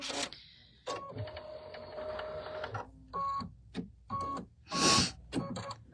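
Embroidery machine sewing a batting placement stitch, a close mechanical whirring run with rapid stitching chatter, broken by stops, short bursts and a sharp motor whine.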